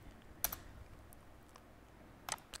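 Typing on a computer keyboard, two short bursts of sharp key clicks separated by a quiet pause, close and clear over faint background hiss.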